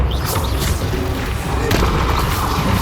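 Repeated blasting-curse explosions from Hogwarts Legacy, a dense rumbling barrage of loud booms and crackling bursts with a sharper blast about midway, continuous and close.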